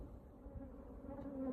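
Honey bees humming around a hive colony, a faint continuous low buzz that rises slightly toward the end, with no voices.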